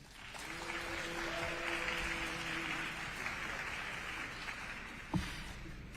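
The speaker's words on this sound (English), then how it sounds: "I would like to remind the audience that clapping is a disruption of the congressional proceeding" Audience applause fills a congressional field hearing in California, a steady moderate clapping that holds for the full stretch with a sharp bang near the end, heard from within the room.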